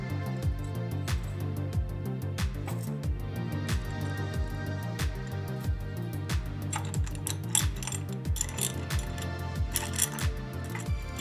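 Screws being removed from a guitar neck plate on a repair bench, a busy run of close metallic clicks, ratcheting turns and small taps that continues steadily throughout.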